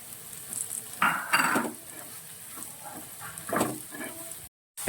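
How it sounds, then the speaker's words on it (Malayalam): Masala of ground coriander, garam masala and pepper powder fries with onions in oil in a pan, giving a soft sizzle broken by a few louder stirring scrapes and utensil clinks, ending in a short silent gap. "നന്നായിട്ട് എണ്ണയ്ക്കകത്ത് കിടന്ന് ഈ മസാലയും സവോളയും ഇതെല്ലാം കൂടെ നന്നായിട്ട് കിടന്ന് മൂക്കട്ടെ."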